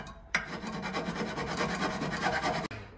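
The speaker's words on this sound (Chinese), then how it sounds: "找了一个锉，拿这个锉先把它给表皮修理修理。" A metal file rasps steadily across the cracked, tin-soldered surface of a frozen water heater tank, one continuous close scraping run that begins and stops abruptly.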